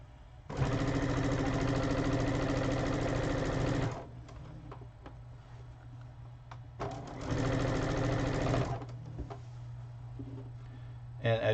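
Sewing machine stitching a baby quilt, running in two sustained loud bursts of steady mechanical whir with a pause of quieter handling noise between them.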